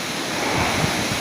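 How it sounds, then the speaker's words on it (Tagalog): Strong wind from Typhoon Tino in the Philippines roars as a steady, dense broadband rush with microphone buffeting, loud and continuous for a brief moment with no voices. "Narinig yung hangin guys."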